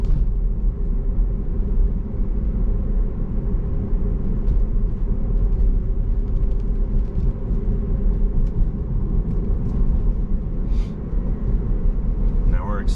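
A Tesla on Full Self-Driving version 12.3 gives a steady, loud cabin road rumble and motor hum throughout, and a voice talks over it.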